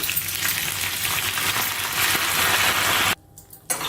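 Dried red chillies and curry leaves sizzle in hot oil on a switched-off stove, a loud, steady crackling fry that cuts off abruptly near the end.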